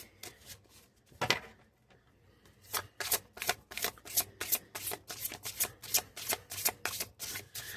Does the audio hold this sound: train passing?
no